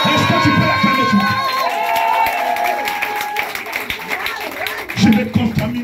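A church congregation cheers and claps loudly at a French-language worship service, a dense crowd roar of applause and shouts, with a preacher's voice rising over it at the start and again near the end.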